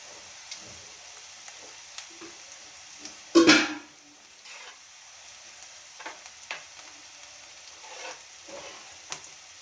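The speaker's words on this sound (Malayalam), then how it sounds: "സവാളയാണ് ഞാൻ അരിഞ്ഞ് വെച്ചേക്കുന്നത് അതൊന്ന് വഴറ്റിയൊന്ന് ഈ കറിവേപ്പിലയും കൂടി ഇട്ട് കൊടുക്കണം താളിപ്പിന്" Chopped onions and curry leaves sauté in a pan as tempering for a prawn curry, with a sharp, loud sizzle burst partway through, then quieter frying and occasional stirring taps.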